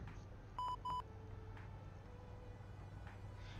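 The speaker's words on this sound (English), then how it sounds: "That's the sound of a call coming" Two short electronic beeps of an incoming phone call in a video game, clear above a steady low engine hum and faint game ambience, with no talking.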